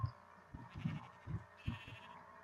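Sheep in the Minecraft video game, in a modded world, give a series of short, soft bleats in an uneven rhythm, fairly faint against a quiet game background.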